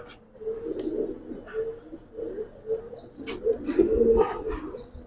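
An old-breed black-necked Giribaz pigeon coos in a steady run of low, rolling calls, close and fairly loud, with a few faint higher chirps in the background.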